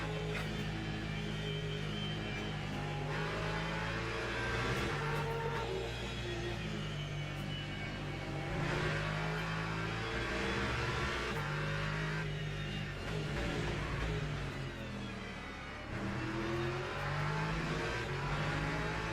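Race cars, including a Porsche and P2 prototypes, lap Laguna Seca in a racing game, with steady engine droning and rising and falling revs through gear changes that continue without a break.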